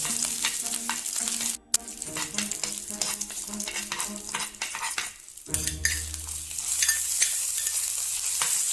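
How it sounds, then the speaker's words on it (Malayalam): Mustard seeds, dried chilies, curry leaves and green chilies crackle in hot oil on a tawa, a close busy sizzle with stirring scrapes, brief breaks in the sound, then a louder, fuller fry. "എണ്ണ ഒഴിച്ച് ചൂടാകുമ്പോൾ കടുക്, മുളക്, കറിവേപ്പില, പച്ചമുളക് എന്നിവ ചേർത്ത് വഴറ്റുക."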